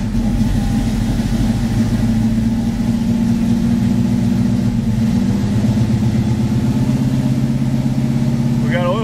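A 1972 Pontiac Firebird Formula V8 idles close by, a loud, steady, throbbing rumble with an even low beat and a slight rise in pitch near the end.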